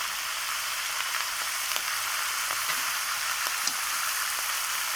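A spice masala with salt and chili powder fries in a pan, making a constant bright hiss of sizzling oil with faint, occasional stirring taps, steady and close, with no voices.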